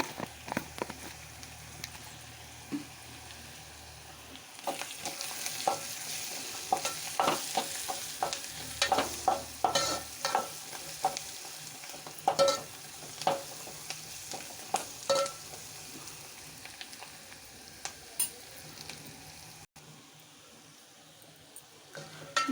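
Curry with drumstick and cucumber frying in a pan after turmeric goes in, stirred again and again with scrapes and clinks over a low, steady sizzle, close and fairly quiet, with no talking.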